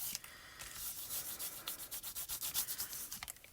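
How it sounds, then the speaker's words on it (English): A small sponge dauber rubs ink over embossed paper texture in quick, rhythmic scrubbing strokes, a soft, close, dry rasp repeating about twice per second. "You would get your little sponge daubers and dip them in and color that, and that really highlights the texture of that embossing folder."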